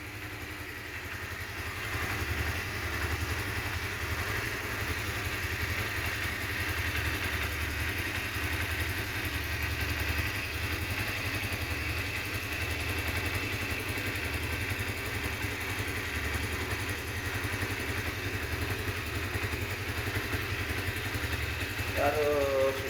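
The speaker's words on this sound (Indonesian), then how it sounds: "Kita dengerin suara mesinnya yang halus banget gitu." A 2007 Honda CBR motorcycle engine idles smoothly and steadily with a low, even rumble and faint clatter, running continuously up close.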